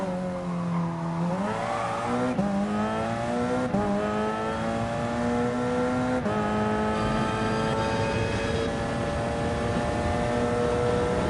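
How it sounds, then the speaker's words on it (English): Several race car engines roar and rev continuously in GT Sport, with rising and shifting pitches as the cars accelerate and change gear, loud and steady throughout with no talking. "These cars are awesome."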